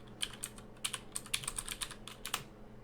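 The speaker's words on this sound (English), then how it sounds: "No, just type in prototype itself." Quick, light keystrokes come in uneven bursts on a computer keyboard during a game development session, fairly quiet and close, with brief pauses between runs of clicks.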